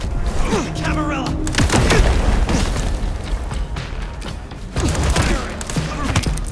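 Gunfire and booming impacts in a Vampire: The Masquerade – Bloodlines 2 fight, scattered shots and bursts mixed with shouting voices and combat noise throughout.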